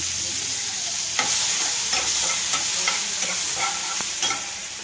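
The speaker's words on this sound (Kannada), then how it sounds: "ಇದನ್ನು ಒಂದು ಸ್ವಲ್ಪ ಎಣ್ಣೆ ಹಾಕಿ ಚೆಂದಾಗಿ ಬಾಡಿಸೋಣ" Tomatoes fry in oil in a pan for a ridge gourd chutney, giving a steady loud sizzle broken by repeated scraping stirs, with no talking.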